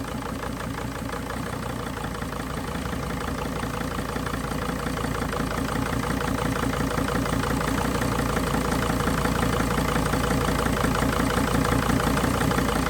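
Mercedes Sprinter diesel engine idling with the number 1 injector unplugged, a steady, close, continuous rumble with a slightly uneven running beat throughout, no talking.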